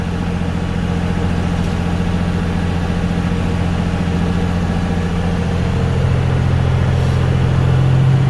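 A truck's engine idles steadily at close range during a CDL pre-trip inspection while its air brake pressure builds, a continuous low rumble with a strong hum and a slight rise in level toward the end.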